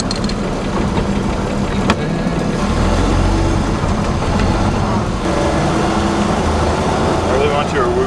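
A 1923 Nash car driving, its old engine and transmission giving a steady mid-pitched drone with a gear whine, while people talk over it.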